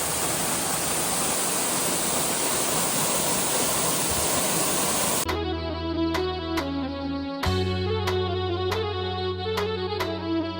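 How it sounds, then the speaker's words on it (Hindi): Roadside waterfall giving a steady, dense rush of falling water for about five seconds, then cut off abruptly and replaced by music with sustained tones and plucked notes. "इतना सुंदर झरना"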